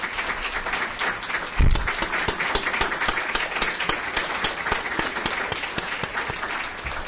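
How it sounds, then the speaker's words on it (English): An audience applauds research assistants at an academic gathering, a steady wash of many hands clapping that holds evenly from start to finish with one louder thump near the beginning. "So I'd like a round of applause for all the RAs"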